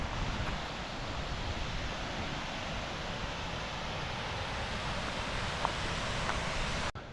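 The waterfalls at High Falls State Park in Jackson, Georgia roar as a steady, unbroken wash of rushing water, moderately loud and constant throughout with no voices.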